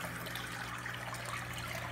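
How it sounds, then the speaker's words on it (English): A power head pump in a DIY 30-gallon container biofilter with river rocks pushes water back out, giving a steady, continuous splashing trickle at close range with no pauses. "it pumps the water back out, as you can see here"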